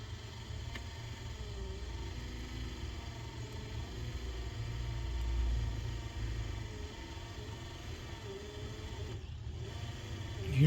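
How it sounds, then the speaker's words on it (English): Electric motor driving a gear labours through a tight spot, a steady low hum and rumble that drags and strains, close by with no talking. "hear that motor have problems going through it."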